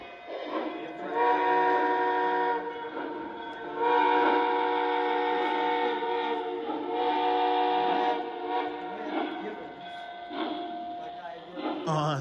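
Lionel O scale TMCC New York Central 260 model train whistle, several long chord-like blasts with brief breaks between them, moderately loud and close, with a speaking voice also present.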